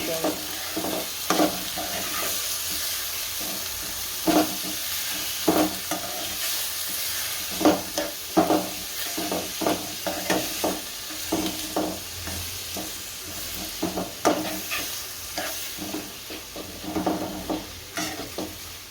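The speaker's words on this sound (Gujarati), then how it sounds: "અને હલાઈ નાખશું" A spoon stirs a tempering of oil and asafoetida for mung dal, with rhythmic scraping strokes over a close, steady sizzle.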